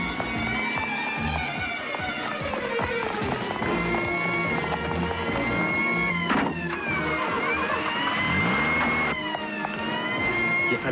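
Police sirens wail over a dense, continuous action-film soundtrack of roaring car engines and music during a Hindi movie car chase, the siren tones rising and falling steadily throughout at full loudness.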